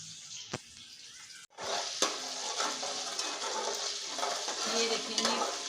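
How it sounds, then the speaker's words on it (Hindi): Garlic ginger paste and chicken hit a hot pan with a sudden loud sizzle after a quiet moment, then keep frying with scraping stirs and clinks of a utensil, no speech. "इसे हम थोड़ा सा फ्राई करेंगे, फिर अब हम इसके अंदर डाल देंगे चिकन।"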